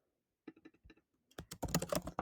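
Typing on a computer keyboard while designing a logo: a soft, close patter of individual keystrokes, a short sparse run followed by a quicker, denser burst of clicks.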